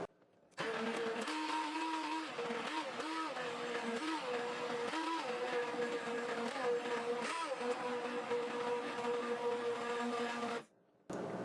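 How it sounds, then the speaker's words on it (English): An immersion blender whirs steadily through butternut squash soup, a loud continuous motor drone with small pitch dips as it churns, starting abruptly after a brief silence and cutting off near the end. "So now I'm going to take the immersion blender, which I hate doing."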